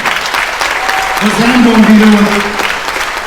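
Audience applause at a folk concert by a national orchestra of folk instruments with the Iriston ensemble in St. Petersburg; steady dense clapping fills the hall throughout while someone speaks over it.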